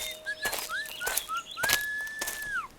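A cartoon goat whistles a lilting tune of short gliding notes that rise and fall, ending in one long held note that bends downward, with a few soft taps and knocks between phrases and no voices.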